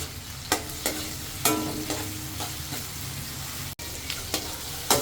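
Tomatoes sautéing in a pan with onions for a coconut-milk fish dish, a steady close sizzle broken by several sharp scraping stirs of a utensil, with no talking.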